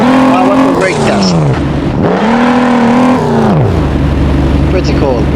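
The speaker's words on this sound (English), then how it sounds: "Now I want to brake test." Ford Raptor pickup in the Car Parking Multiplayer mobile game doing a brake test: loud simulated engine revs rising and dropping in repeated surges, with a sharp pitch fall as it slows and a low rumble at the end.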